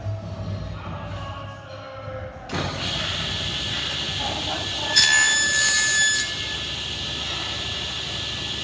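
A table saw cuts a wooden tenon, with the workpiece guided by both the miter gauge and the fence, giving a steady, close whine and rasp that rises slightly partway through.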